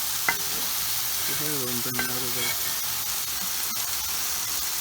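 Thin burger patties fry on a griddle with an even, steady sizzle throughout, while a brief tonal squeak or voice-like sound rises over it partway through.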